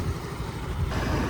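A neglected old moped engine idles quietly and steadily at close range, a soft, even mechanical whir with no voices over it.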